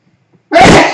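A single loud, close sneeze bursts out suddenly in a home kitchen, preceded by near silence.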